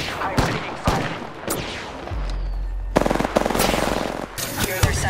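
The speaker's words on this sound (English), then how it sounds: "Getting shot at." Bursts of automatic gunfire in the Apex Legends battle royale game, including a charge rifle, rattle out in rapid loud volleys after scattered single shots, with a low humming charge tone underneath.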